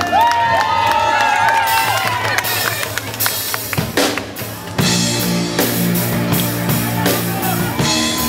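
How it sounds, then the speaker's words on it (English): Audience applause and cheering for a singer after a live performance of a song, loud crowd clapping with whoops and shouts, persisting as music and voices continue underneath. "So give a round of applause to Deecee."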